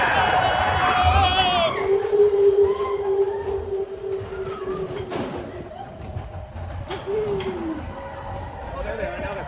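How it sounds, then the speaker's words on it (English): Disneyland train passing close by, with a sustained rumble, a long tonal whistle-like note and rolling clatter over crowd chatter and nearby voices. "Train behind us."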